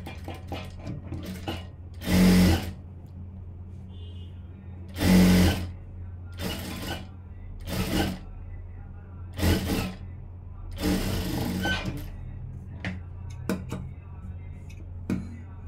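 Sewing machine stitching the lining of a blouse, several short bursts of rapid mechanical whirring separated by quiet pauses, fairly close and clear.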